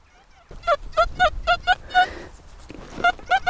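Metal detector in a farm field giving a squawky, harsh tone over a buried target, a rapid series of about ten short repeated chirps with a brief pause, loud and close, with no talk.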